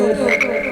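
A single frog croaks nearby in one short, raspy call, clear against a quiet background.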